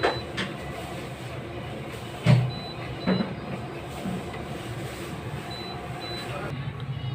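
A sublimation printer runs its head-cleaning cycle with a steady mechanical whir and hum. A couple of soft clunks sound partway through, close by and under faint speech.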